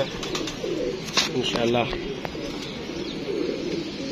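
A fantail pigeon coos in short throaty bursts at moderate distance, with outdoor background noise and someone talking over much of it.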